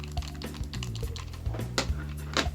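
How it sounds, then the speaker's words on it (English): An original Sega Saturn controller's micro switch buttons click crisply and close up, a rapid irregular run of sharp taps with no talking. "And here's the original Saturn pad. If you notice, it's got a nice micro switch click in there."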